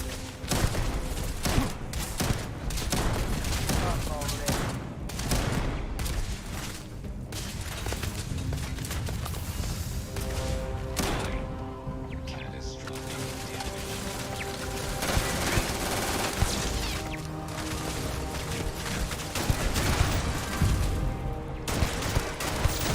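Rapid shotgun blasts and other gunfire crack in dense bursts during a firefight in the Starfield video game, with sharp repeated reports over a constant layer of game noise and music.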